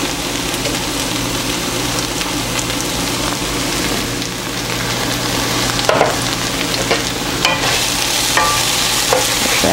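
Soy crumbles and vegetables cook in a pan with a constant busy sizzle, joined later by sharper scraping and clinking as they are stirred, heard close with no voices.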